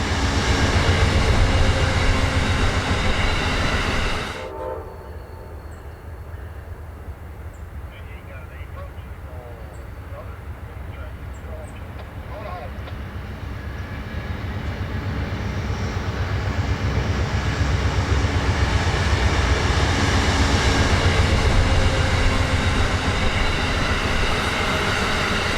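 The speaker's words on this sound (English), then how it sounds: "Amtrak 98 showed up, rolling on Track 2 up to his Jacksonville station stop" Amtrak 98 passenger train rolling on Track 2 into the Jacksonville station stop, a loud continuous rumble and roar of rail cars passing nearby, which dips briefly and then swells steadily again.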